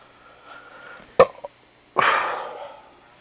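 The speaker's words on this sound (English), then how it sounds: "Excuse me, I had to burp." A sharp throaty hiccup-like gulp is followed by a longer, louder burp from a person close by, with no talk over it.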